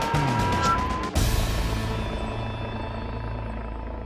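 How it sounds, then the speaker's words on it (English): A police helicopter passes overhead on a clear winter night, its rotor thudding loud and steady before easing slightly as it continues on, with no voices. "the helicopter support unit is out again."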